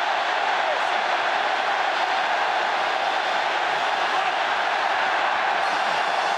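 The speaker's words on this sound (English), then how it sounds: "So listen to the crowd" A large rugby stadium crowd at an England versus France semifinal, producing a dense, continuous roar that stays loud and even throughout.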